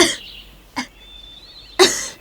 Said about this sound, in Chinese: 怎么又咳嗽起来了？